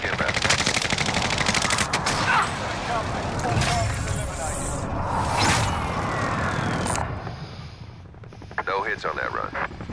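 Small-caliber gunfire from a strafing run in Call of Duty: Modern Warfare, loud rapid bursts with aircraft and engine noise, radio-style voices talking over the fire, then a few sharp separate shots near the end.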